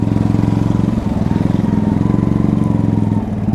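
A motorcycle engine runs steadily with a loud, close, throbbing drone and dips briefly near the end, heard alone without voices.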